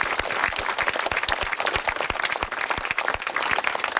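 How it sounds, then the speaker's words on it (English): An outdoor Hen Harrier Day rally audience gives a round of applause, with dense clapping and a few loud individual claps close by, fairly steady throughout. "So round of applause for farmers."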